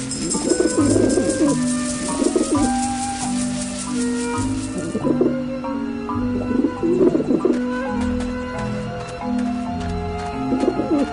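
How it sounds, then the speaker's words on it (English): Pigeons coo and flutter in Grim Fandango as the birds attack, their repeated low cooing close and steady over a game music bed. "Get him off me! Back off, birds!"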